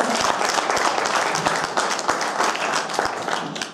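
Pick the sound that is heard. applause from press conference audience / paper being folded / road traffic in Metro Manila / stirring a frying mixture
applause from press conference audience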